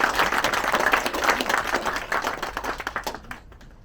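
An audience applauds to welcome a chief executive onto the stage, a steady wash of many hands clapping close by that fades out over a few seconds.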